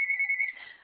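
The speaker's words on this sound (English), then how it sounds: "Excuse my phone." Mobile phone ringing during an online Toastmasters meeting: a brief, steady electronic tone that is fairly quiet and clear, with no other sound around it.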